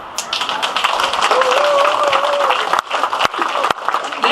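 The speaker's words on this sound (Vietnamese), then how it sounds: "Xin quý vị cho một tràng pháo tay." An audience applauds loudly and steadily at a Vietnamese community event in Marrickville celebrating a street named for Vietnam, with crowd noise throughout and a few sharp claps near the end.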